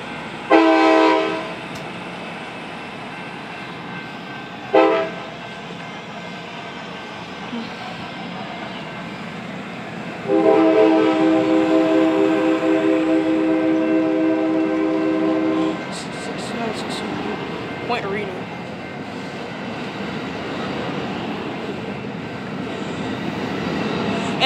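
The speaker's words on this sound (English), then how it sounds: "There it goes, Amtrak train 702, Sacramento to Bakersfield." Amtrak train 702, hauled by a Siemens Charger SC-44 locomotive, departs Madera station in California. Short horn blasts sound first, then a long sustained horn, over a steady rumble of the train rolling past and gradually pulling away.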